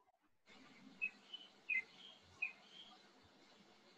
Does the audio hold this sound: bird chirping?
yes